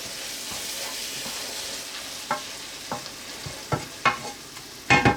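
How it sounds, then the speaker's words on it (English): Plain flour being stirred through beef stroganoff in a pot, a soft sizzle under intermittent spoon scrapes and knocks that grow louder toward the end. "So we're just going to gently stir that through now."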